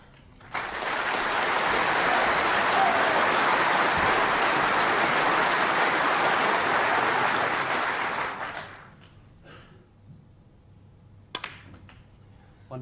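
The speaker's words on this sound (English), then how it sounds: "Wait for the applause for the century." Snooker crowd applause for a century break at the Crucible, a sudden full burst of clapping that holds strongly for about eight seconds, then fades to a quiet hall with a few isolated claps and faint taps.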